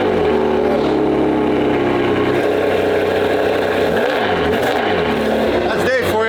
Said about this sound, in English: Rev it up cold.